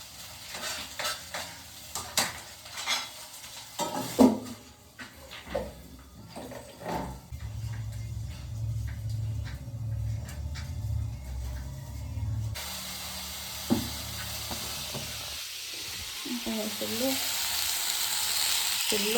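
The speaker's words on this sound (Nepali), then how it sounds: "अब यसलाई खुर्सानी उयो गर्ने अनि पर्पर भुट्ने।" Green chillies frying on low flame in a pan, crackling and sizzling while a spatula scrapes and stirs in irregular strokes, close and fairly loud, with a louder hissing wash of frying later on.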